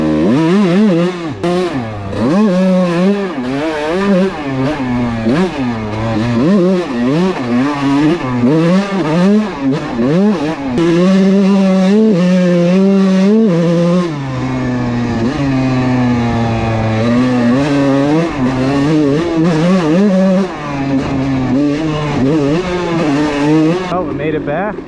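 A KX125 two-stroke dirt bike being ridden, its raspy high-pitched engine rising and falling through repeated revs and throttle blips, loud and close throughout the ride.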